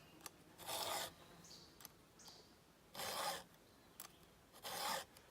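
A file rasps across chainsaw teeth during sharpening, close and clear: three loud, drawn-out strokes with fainter scrapes and taps between them.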